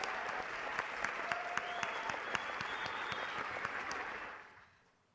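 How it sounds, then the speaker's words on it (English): At an awards ceremony, a large audience claps in a steady, dense roar of applause, with a few sharper claps poking through. It holds for about four seconds, then tapers quickly into quiet. "So can we have a round of applause for our online community watching?"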